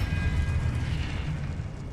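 Confringo blasting spell explosion in the Hogwarts Legacy video game: a dense, low rumbling boom that rolls on steadily for about two seconds, loud and close, with no voices over it.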